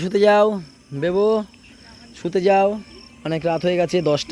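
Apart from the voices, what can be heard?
crickets chirping at night in Sundarbans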